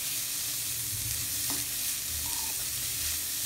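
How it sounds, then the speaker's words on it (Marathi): Chopped onion and bitter gourd sautéing over a high flame for a Maharashtrian karela bhaji, with a steady close sizzle and a few scraping stirs in the pan and no voices. "या कारल्याबरोबर व्यवस्थित परतवून घ्यायचा आहे फास्ट गॅसवरती"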